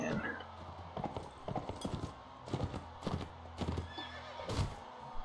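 Galloping hooves clatter in a rapid rhythm and a horse neighs during a tournament fight in the Mount & Blade Warband video game, with scattered combat noise throughout.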